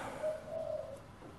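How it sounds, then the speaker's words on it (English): Doves cooing outdoors near a metal workshop, a soft low repeated coo standing alone at moderate distance. "Oh, hello, the doves are out and about."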